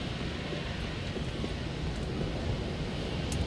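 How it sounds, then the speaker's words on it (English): Wind blows high up in the Dark Souls III video game as a steady, broad rushing roar that holds even and unbroken from start to finish. "It's very windy up here."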